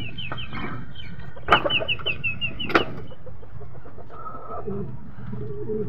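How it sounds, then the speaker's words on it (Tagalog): Racing pigeons arriving at a home loft after an area pooling race, with soft cooing and wing flaps, a couple of sharp flutter bursts and other birds and fowl clucking around them, no speech. "First bird natin to dumating, magkasunuran sila ni Ola"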